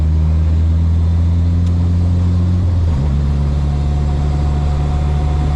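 A Toyota AE70 drift car drives on a road with a loud, close engine drone whose pitch holds steady, then drops and resettles as it shifts, with no voices.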